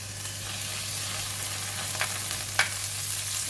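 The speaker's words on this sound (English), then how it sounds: "We're going to cook the prawns now" Prawns fry in a little oil in a hot pan for Chinese sausage fried rice, a steady close sizzle broken by two brief sharp pops or stirring scrapes near the end.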